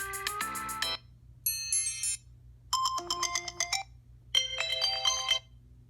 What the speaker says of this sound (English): if you want to have a different ringtone for your alarm, you're going to click this